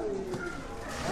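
Pigeons coo softly in a steady, low murmur at a pigeon exhibition in Trenčianske Stankovce, Slovakia, against a busy background that may include faint voices.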